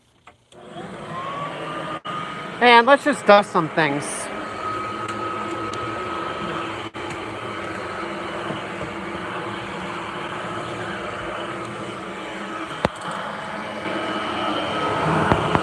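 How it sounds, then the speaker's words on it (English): A Kirby 560 upright vacuum cleaner fitted with a crevice tool runs with a steady, loud whine in a basement. It starts after a brief spoken line and a few clunks, then drones on continuously to the end. "So we're going to turn on the vacuum."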